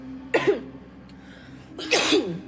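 Two sharp coughs about a second and a half apart, close and fairly loud, with quiet in between.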